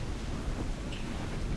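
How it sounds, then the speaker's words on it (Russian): A storm at sea in Assassin's Creed 4 Black Flag gives a steady, dense roar of wind and rain that stays loud and even throughout, with no distinct thunderclap standing out. "Итак, мы опять в шторм попали."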